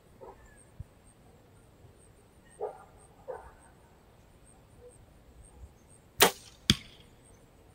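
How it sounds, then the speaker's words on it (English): During outdoor bow practice at 40 yards, a dog barks faintly in the distance a few times. Later come two sharp, loud thwacks close by. "My dog's barking now."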